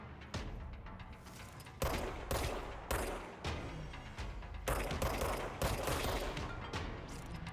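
Gunfire from the video game Control rattles in rapid bursts of shots, loud and close, with short pauses between volleys.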